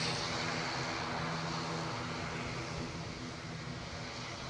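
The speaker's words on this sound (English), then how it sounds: "I can't believe we got that ATR clogging up the sound." An ATR turboprop airliner at Edinburgh airport gives off a loud, steady broadband roar with a low droning hum, holding level and close throughout with no talk.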